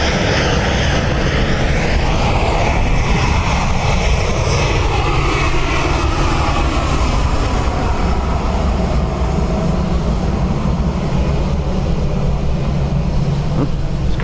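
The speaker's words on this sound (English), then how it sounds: "Intersect departure for Ryanair." A Ryanair airliner departs from Dublin Airport, its jet engines producing a loud, continuous roar with a shifting pitch as it accelerates and passes at close range.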